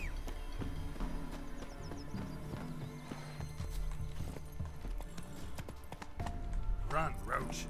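Roach, a horse in the Witcher 3, gallops with a steady clip-clop of hooves and gives a brief whinny near the end. The hoofbeats sound moderately close and sit among quiet game music and ambience.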